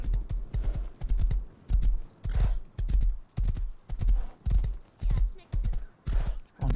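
Horses in a stable in the video game Rust, their hooves clip-clopping in a steady repeating rhythm about twice a second, loud and close, with an occasional whinny.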